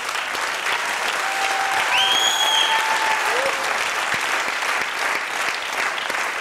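Audience applause for a performer on stage, a continuous dense wash of clapping with a few faint whistle-like tones rising over it.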